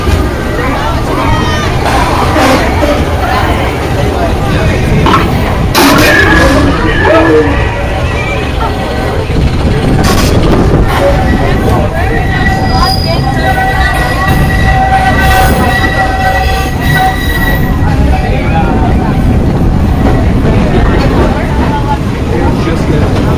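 Big Thunder Mountain Railroad train ride at Walt Disney World, a loud continuous rattle and roar of rolling coaster cars with squealing wheels, crowd babble and occasional voices mixed in.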